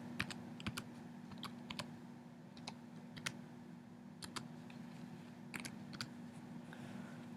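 Someone types an access code on a computer keyboard. Crisp individual keystrokes arrive in irregular bursts over a low steady hum, close and fairly quiet, with no voices.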